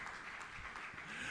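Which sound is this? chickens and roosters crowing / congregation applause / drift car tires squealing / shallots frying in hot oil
congregation applause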